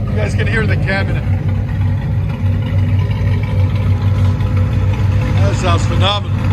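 A cammed 1998 Chevy Camaro Z/28 with a 5.7L V8 and Flowmaster Outlaw dual exhaust idles with a loud, steady, choppy lope throughout, a deep throaty rumble with people talking over it at times.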